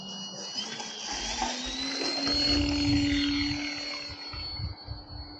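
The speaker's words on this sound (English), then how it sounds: "So you can hear the wheels keep on turning when you've left the ground. That was the rattling noise." An XFLY Glastar V2 RC plane takes off on a cold, calm morning, its electric motor whining steadily and rising in pitch, with a faint rattle from the spinning wheels beneath.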